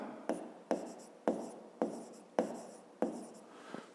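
A pen writes numbers on paper in six distinct strokes, each a short scratchy burst starting sharply and trailing off, close and steady with no talking.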